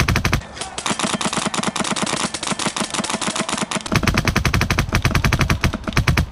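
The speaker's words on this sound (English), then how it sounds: "I just shot that dude like 12 times" Airsoft guns firing rapid bursts outdoors at an Oklahoma field, with loud, dense popping shots and a brief pause partway through, set against rap music.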